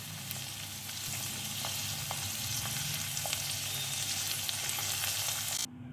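Grated ginger and garlic sauté in a pan for a Veg Manchurian, a soft steady sizzle with occasional light ticks and a low rumble beneath, cutting off sharply near the end.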